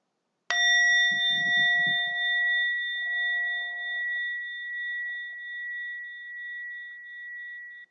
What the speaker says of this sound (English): listen to one sound of the bell so that we can truly arrive in the present moment